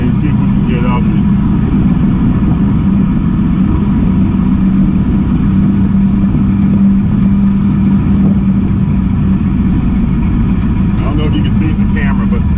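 Can-Am off-road vehicle in four-wheel drive climbing a washed-out ledge beside a pond, its engine droning and revving steadily and loudly throughout, close to the microphone.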